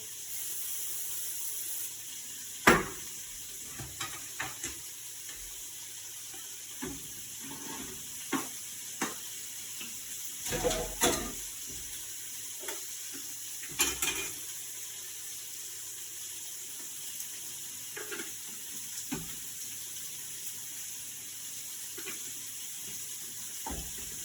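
A meal cooking in a pan at a camp or prep setting gives a steady faint sizzle throughout, broken by scattered clinks and light knocks of utensils, with no one talking.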